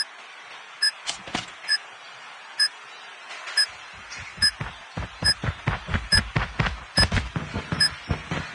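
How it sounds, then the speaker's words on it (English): A planted bomb beeps in Call of Duty: Mobile on the Coastal map, sharp electronic pips repeating at a steady pace and then speeding up into a rapid countdown, mixed with close game thumps and footsteps. "The bomb has been planted."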